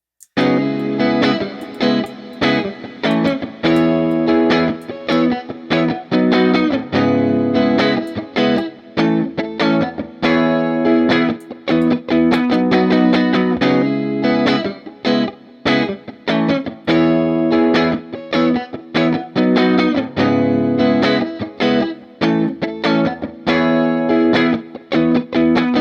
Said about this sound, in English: Let's put a little bit of that shimmer reverb.